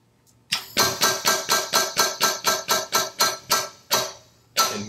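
A Kurt single-station hydraulic vise is energized to clamp its jaw on a part, producing a rapid run of about fourteen sharp, evenly spaced pulsing thumps, close and loud, followed by two slower bursts.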